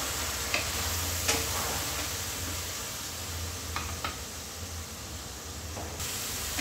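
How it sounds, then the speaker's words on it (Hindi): Onion paste sizzles in a hot pan while being stirred, a continuous hissing fry with a low rumble and a few light scraping clicks, close and steady with no talking. "इसे हम चला लेंगे।"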